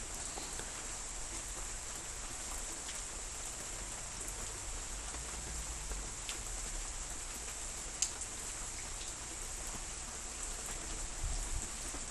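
Heavy rain falls steadily in a dense, continuous hiss of drops that stays even and unbroken throughout, with one brief sharp tick partway through and no voices.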